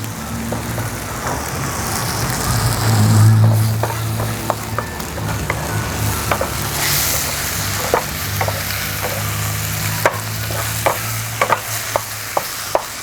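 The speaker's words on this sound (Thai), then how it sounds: "ก็ตียีกับไข่ให้มันแตกก็เอาบวบมาใส่บนไข่" Angled loofah stir-fried with eggs in a hot pan, with steady sizzling and frying plus scattered sharp clicks of a utensil against the pan, loud and close throughout with no talk.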